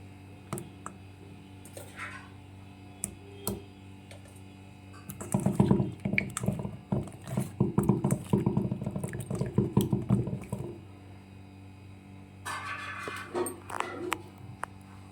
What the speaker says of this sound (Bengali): তো দেখো কড়াতে সামান্য একটু জলও দিয়ে দিয়েছি